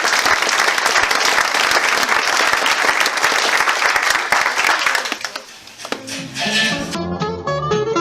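Loud audience applause at a chamber of trades New Year's greetings event, dense clapping that fades after about five seconds and gives way to a short burst of music.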